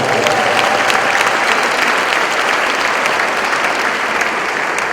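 A church congregation at a Sunday service breaks into sustained, loud clapping, a thick unbroken roar of many hands that carries on evenly without any voice on top.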